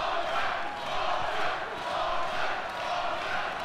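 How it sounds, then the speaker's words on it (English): A crowd at a mixed martial arts cage fight chants in a steady roaring swell, the massed voices rising and falling rhythmically from across an arena. "The chants are starting."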